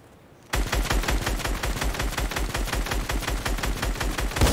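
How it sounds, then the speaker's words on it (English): Rapid automatic gunfire in the Fortnite video game, a loud, evenly paced burst of repeated shots starting abruptly after a brief quiet moment and continuing without pause. "Who's shooting at me?"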